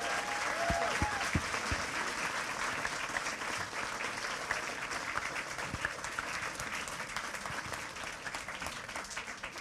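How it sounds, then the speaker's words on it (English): An audience at a live talk event claps in sustained, dense applause that holds steady for the whole stretch, heard from within the room, with a little background voice at the start. "Give yourself a big round of applause."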